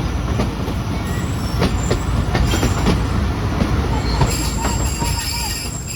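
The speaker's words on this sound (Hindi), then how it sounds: "ये ट्रेन जो है ना चलना शुरू हो गई है" A passenger train pulling away at a station in Pakistan: a steady, loud rolling rumble with repeated wheel clicks and thin metallic squeals, plus faint voices in the background.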